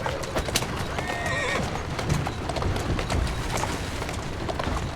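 A horse in Assassin's Creed Syndicate whinnies clearly near the start while steady clip-clop hoofbeats on a street run throughout, close and continuous over a faint background hum.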